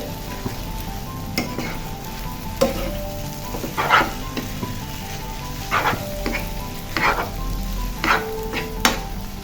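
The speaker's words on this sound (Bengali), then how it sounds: "দিয়ে আমি আবার ভালোভাবে মিশিয়ে দিচ্ছি।" Noodles tossed with their spice-packet masala in a pan, stirred so a utensil scrapes and clacks against the metal in a loose rhythm of about ten strokes over a low, steady sizzle, nearby and unaccompanied by speech.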